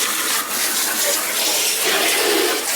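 A powerful water stream from a long pointy spray nozzle, a loud, steady close-up hiss and splash that runs without a break.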